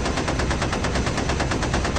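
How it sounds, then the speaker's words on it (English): Rapid machine gun fire from a B-17 ball turret gunner shooting at a climbing German fighter, a loud, dense, continuous burst of evenly spaced shots filling the whole moment. "The ball gunner, Alex Berry, fires at the climbing 110."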